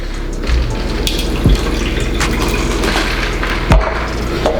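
A Jose Cuervo mixed drink poured into a cup, a continuous loud splashing stream of liquid with a few dull knocks of the container, close up and without talk.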